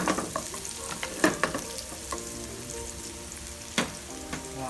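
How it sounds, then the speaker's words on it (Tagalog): Garlic frying in oil until golden brown, a soft steady sizzle with occasional sharper crackles and stirring clinks scattered through, fairly faint and with no talking. "Muna natin ilalagay syempre yung garlic. Sutay lang natin siyang mag golden brown."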